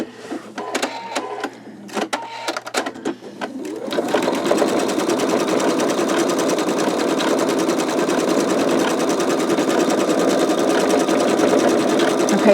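An embroidery machine stitching a skull design, preceded by a few sparse clicks and taps, then a steady fast rhythmic needle chatter that runs loud and close without pause.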